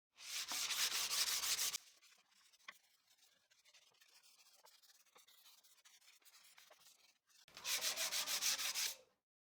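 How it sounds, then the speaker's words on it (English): Worn 180 grit sandpaper rubs lightly over machined wood by hand in two bursts of rhythmic back-and-forth strokes, close and scratchy, separated by a quieter stretch of faint handling clicks. "I'll use a worn 180 grit sandpaper to lightly sand where the machining was done"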